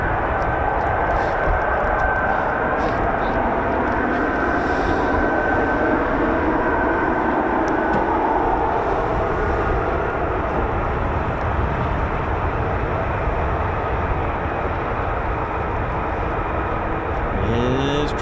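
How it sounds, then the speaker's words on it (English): F-35 fighter jets flying near RAF Lakenheath, a broad continuous rumbling roar that carries steadily throughout the clip. "I can hear more F-35s in the distance"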